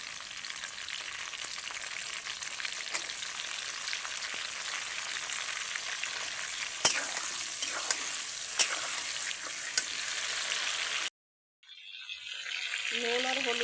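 Green chillies stirred in hot oil in a pan, giving a steady bright sizzle with occasional scraping clicks from stirring, then a short cut to silence before the frying sound resumes.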